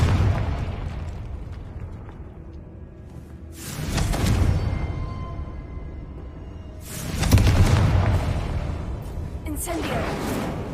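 Explosive Confringo spell blasts in Hogwarts Legacy, two loud booming bursts a few seconds apart over a steady rumbling game background, with a voice speaking between them.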